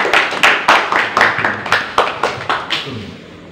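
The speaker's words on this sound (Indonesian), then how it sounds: "mari kita tepuk tangan sekali lagi untuk film yang luar biasa ini" An audience claps after a film screening, giving sharp, fairly rhythmic hand claps with a slight echo that thin out and fade over a few seconds.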